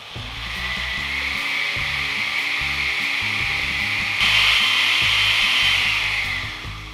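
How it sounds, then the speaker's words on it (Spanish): A blender whirs steadily as it blends a drink, a loud continuous motor drone that swells after a few seconds and eases off near the end, with soft music underneath. "vamos a licuar ahora"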